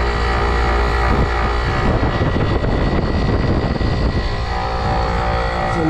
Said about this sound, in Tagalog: maingay kasi yung compressor rubber niya pudpud na